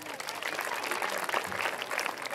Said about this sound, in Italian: Un altro applauso.